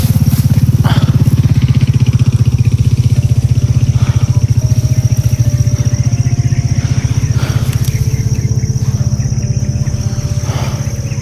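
A motorcycle engine drones loudly and steadily throughout, passing along a road in a video game with a cow nearby, its rough low rumble continuous for the whole stretch.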